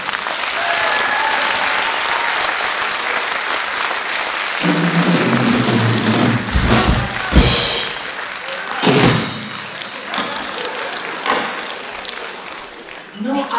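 A loud crowd applauds jazz musicians at a concert, dense clapping filling the room throughout, with a few heavier thumps and brief shouts rising midway before the applause thins slightly near the end.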